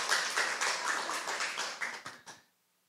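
An audience claps together in a lecture hall during a talk, a burst of handclaps that starts loud at once, runs about two seconds, then trails off in a few last claps before silence.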